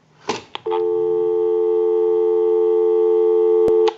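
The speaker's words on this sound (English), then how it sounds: "Give you some dial tone." Steady, loud dial tone from a repaired original Disney Mickey Mouse telephone, starting after a couple of brief handset clicks and holding unbroken for about three seconds before cutting off with a click.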